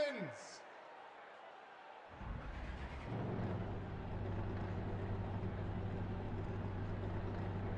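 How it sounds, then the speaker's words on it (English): Race car engines fire up at the start of the Buc-ees 150 at Texas: after a quiet opening, the engines catch partway through and swell into a loud, sustained rumble. "Drivers, start your engines."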